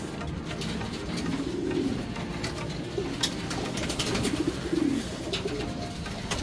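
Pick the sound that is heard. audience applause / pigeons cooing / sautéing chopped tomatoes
pigeons cooing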